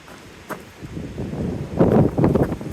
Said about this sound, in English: Hopefully it's less windy up here.